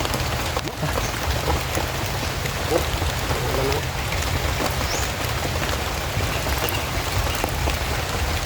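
Steady rain patters densely on a surface throughout, a continuous hiss of drops with faint voices in the background.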